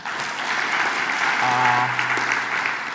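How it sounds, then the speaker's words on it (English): Audience clapping at a Kingdom Sacco annual delegates meeting, a steady burst of applause from a sizable crowd with a brief voice or tone rising over it partway through. "I think it's good that you give them a clap."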